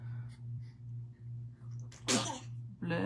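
A person sneezes once, sharp and close, during an indoor makeup routine, breaking through low background hum and soft talk.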